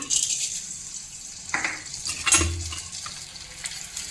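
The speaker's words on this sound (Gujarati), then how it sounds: "બધો જ ગુંદર આપણે આવી રીતે તળી લેવાનું" Pieces of edible gum fry in hot oil in a pan for katlu paak. A soft, steady sizzle is broken by a couple of brief stirring scrapes.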